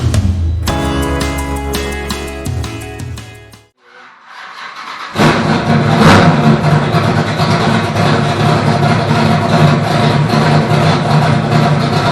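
A 499 stroker engine with a tunnel ram intake revs loudly up close, climbing in pitch, then cuts out briefly to near silence. It roars back in with a harsh, sustained, heavy exhaust note.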